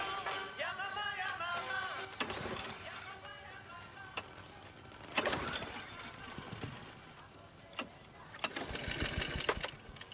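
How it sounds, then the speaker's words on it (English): A small engine repeatedly sputters and cuts out in short bursts, with rhythmic mechanical rattling between attempts, as if a mower is struggling to start. "I know the lawnmower's stuffed up when even Cuddy can't get that thing to start"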